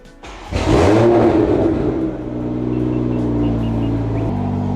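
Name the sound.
Toyota Mk5 Supra car engine starting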